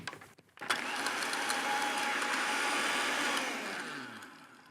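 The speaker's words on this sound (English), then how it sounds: "Lid goes on and I'll give it another blitz." A blender blitzes coconut limeade on ice, switching on abruptly after a brief clatter. It runs at a loud, steady whir for about three seconds, then slows and winds down.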